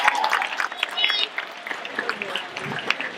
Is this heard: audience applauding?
yes